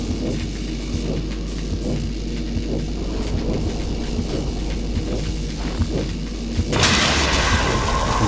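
Deep, rolling thunder from a lightning storm in the game Cryostasis: a continuous low rumble with repeated dull booms, loud and close. A heavier, broader crash of noise hits near the end.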